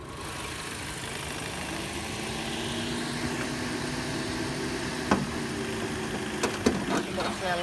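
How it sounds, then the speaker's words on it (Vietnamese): A Lacetti sedan's engine idles with the hood open, a steady moderate hum heard up close while someone talks over it and a few sharp knocks sound near the end. "Thì em sẽ bật lắp capo lên để cho anh chị và các bạn nghe tiếng động cơ."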